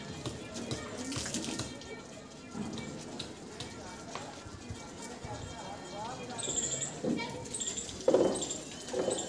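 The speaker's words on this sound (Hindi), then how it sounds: "तो उस गाड़ी वॉश कर रहे हैं" Water splashes and runs over a car being washed by hand, uneven spraying and dribbling with a few sharper splashes near the end, while people talk nearby.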